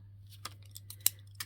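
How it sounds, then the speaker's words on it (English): An envelope flap being cut off on a cutting mat while making a single-signature journal, with scissors or a cutter: a handful of quiet, sharp snips spaced irregularly over a steady low hum. "What I'm going to do is I'm going to cut off the flap on this one."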